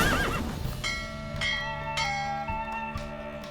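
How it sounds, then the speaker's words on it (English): A horse whinnies during a horse race in The Witcher 3: Wild Hunt, a long, fairly loud neigh rising over game music with bell-like tones and busy ambience. "Don't spare the horse!"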